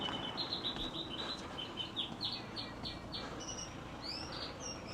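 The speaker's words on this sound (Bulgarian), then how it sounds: "Как хубаво се чуват птичета тук." Small birds chirp and trill repeatedly in short high bursts against a steady outdoor background hiss, several calls overlapping in a lively chorus near a dried-out tree with an old nest, on a walk between a stone arch and an abandoned leper town.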